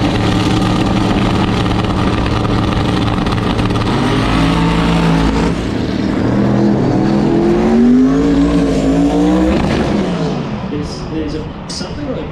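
Race cars accelerating on a circuit, engines loud and rising in pitch through gear changes, one car's note sweeping upward before easing off near the end, with a commentator talking over the roar throughout.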